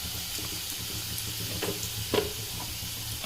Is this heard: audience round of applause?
no